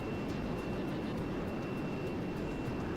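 An A-10C Thunderbolt II in ARMA 3 taxis toward takeoff with a low, steady engine drone and a thin constant whine, at a moderate level and with no voices.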